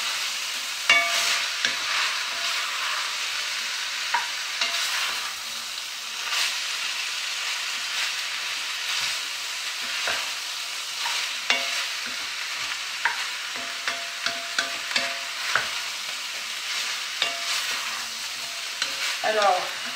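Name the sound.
meat frying and being stirred in a pot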